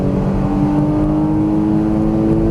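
Porsche Cayman GTS engine pulling hard on a Las Vegas race track, a loud continuous in-cabin drone with a steady tonal note as the car accelerates.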